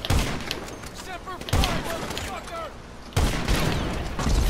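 Gunfire in a first-person shooter video game, loud sharp shots in bursts at about half-second, two-second and three-second marks, with a voice speaking over the game sounds.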